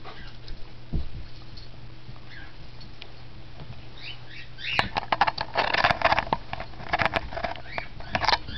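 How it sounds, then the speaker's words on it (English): A dog whimpers indoors with thin, high whines early on, followed by louder scuffling, pattering and rustling movement nearby, with no talking. "Down. Bad dog. Sit."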